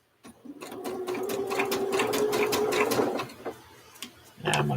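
A sewing machine stitches over a pile of loose thread to make a thread vessel, giving a close, steady mechanical whir for about three seconds before easing off and starting again briefly.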